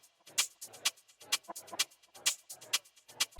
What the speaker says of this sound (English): I used a shaker and hi-hat loop and chopped it up.